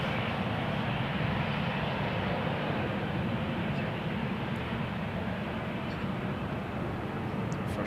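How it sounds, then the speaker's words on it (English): A KLM Boeing 737 airliner at Amsterdam Schiphol Airport gives a steady, broad roar of jet noise that holds at a constant level throughout, with no speech. "And one of the many 737s from KLM."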